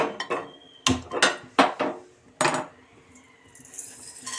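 A metal pan is set down on a stove with several sharp clanks and knocks, a few spaced metallic hits followed by quieter scraping.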